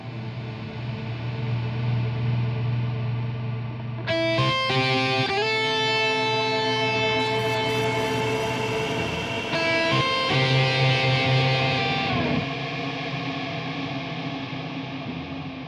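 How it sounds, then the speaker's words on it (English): Guitar notes through a particle reverb effect on a Zoom G11 processor, distorted tones smeared into shimmering, glitchy washes with stepped pitch layers over a steady hum, fairly loud and with no talk. "It's wild, that particle reverb."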